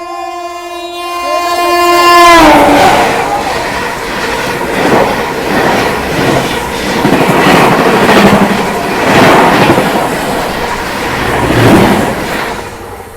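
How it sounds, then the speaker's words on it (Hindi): A New Delhi–Lucknow Tejas Express train on a curve sounds a loud, sustained horn blast, then a heavy, close rumble and clatter of rolling coaches that carries on steadily. "82502 नई दिल्ली लखनऊ जंक्शन तेजस एक्सप्रेस सिकंदरपुर पे हम लोग ओवरटेक करने आ रही है भाई कर्व पे आ रही है"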